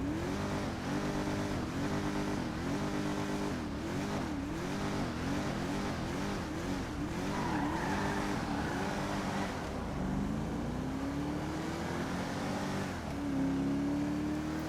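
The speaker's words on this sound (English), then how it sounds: "let's have a listen to the engine first" A standard car engine in GTA Online revs up and down repeatedly in a steady rising and falling pattern, then climbs through higher pitches as it accelerates, loud and close with no talking.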